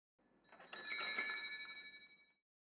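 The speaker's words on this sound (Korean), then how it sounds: "녹음되지 않는 귀로만 들리는 종소리" A ringing bell sound effect with a shimmering metallic tone swells in, holds its bright overtones, and fades out after about two seconds, faint and heard on its own without voices.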